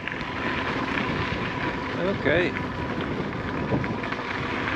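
Steady gusty wind roars across the microphone, with a brief spoken word partway through.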